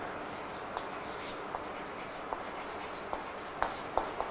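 Marker or chalk writing a heading on a classroom board during a matrices lesson, a faint steady scratching with light tapping strokes at intervals, fairly quiet against background hiss.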